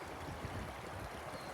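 The Humber River in Toronto spills over a trail, its water rushing in a steady, close, unbroken wash with a low churning undertone.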